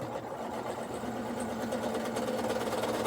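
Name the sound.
sewing machine stitching fabric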